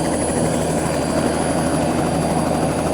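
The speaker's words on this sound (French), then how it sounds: "Ça, c'est un ULM, ça." An ultralight aircraft (ULM) flies nearby, its propeller engine a loud, steady drone that holds constant the whole time, with no voices.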